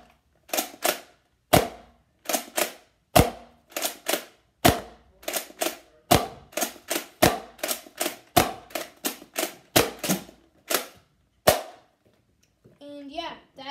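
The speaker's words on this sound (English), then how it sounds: "And I'm going to fire it." Nerf Rival Takedown foam-ball blaster fired over and over, each sharp close snap followed by a brief rattle, about twenty shots in steady rhythm before a short spell of quiet.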